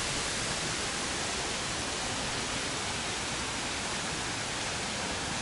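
A risen river after heavy rain in Alanya, Turkey, rushes in a steady dense roar of water, constant and loud, with no voices over it.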